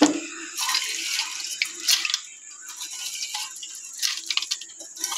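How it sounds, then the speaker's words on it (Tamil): Water splashing and dripping close by as it is poured over horse gram in a grinder, irregular trickles and drops against a hard container, with a faint steady hum underneath. "லைட்டாக தண்ணி ஊற்றுறேன் பாருங்கள், தண்ணி தொளிக்கிறேன் லைட்டாக"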